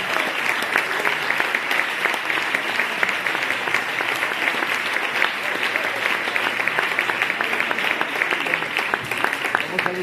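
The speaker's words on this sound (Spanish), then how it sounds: "denle un aplauso a la palabra del Señor" Steady, dense applause from a church congregation, a continuous crackle of many hands clapping for the full length without pause.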